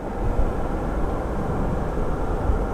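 Steady, fairly loud low rumble of a Southwest airliner taxiing at Phoenix Sky Harbor International Airport, heard close by as a continuous engine drone with no talking.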